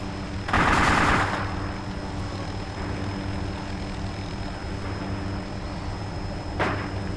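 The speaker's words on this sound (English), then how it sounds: "Ooh, taking fire." Burst of video-game gunfire from an M99 weapon in a truck combat game, one loud rapid volley near the start followed by a softer short burst near the end over steady engine-like background rumble.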